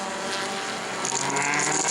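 A four-cylinder bomber-class race car engine roars steadily nearby during a qualifying run at New Smyrna Speedway, growing a little louder and brighter in the second half.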